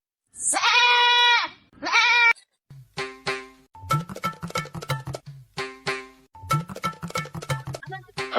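A goat at a goat trader's sale lets out two loud, close, drawn-out bleats back to back, then several people talk over each other.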